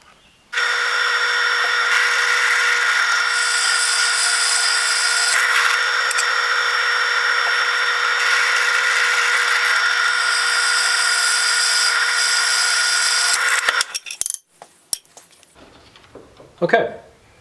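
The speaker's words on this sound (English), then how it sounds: "So I'm going to lay out the holes and drill them." A power drill bores holes in a V-42 combat knife guard with a loud, steady high-pitched whine for about thirteen seconds, then stops, followed by a few faint clicks and handling noises.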